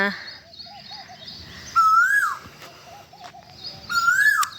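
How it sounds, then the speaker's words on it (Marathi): A koel, a cuckoo, calls in a soybean field, giving two rising whistled notes at moderate loudness, with other faint birdsong in the background. "इकडं मस्त कोकिळ कू कू चालली बघा"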